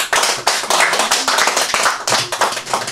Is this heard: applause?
yes